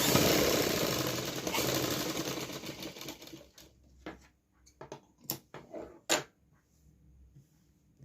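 A sewing machine stitching a kurti neckline runs in a steady, dense whir for about three seconds, then stops, followed by scattered light clicks and handling knocks of fabric and machine parts.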